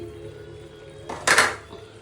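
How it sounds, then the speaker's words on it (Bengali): A cooking pot lid is lifted while Bengali rajma chholar dal cooks, giving a brief metallic clatter and scrape that rises sharply in the middle and then fades, close and fairly loud against quiet kitchen background. "তাহলে আমি এখন ঢাকনাটা উঠাচ্ছি।"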